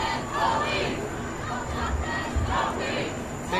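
A protest crowd of about a thousand people chanting outside Chase Field, a loud massed roar of voices rising and falling in rhythmic waves, steady and fairly near.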